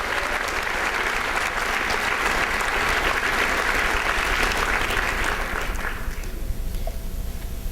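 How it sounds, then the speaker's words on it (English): An audience at a Holocaust survivor talk applauds steadily and densely for about six seconds. The clapping then thins and fades out. "I'd also like to give a round of applause to Daryl for doing all this work"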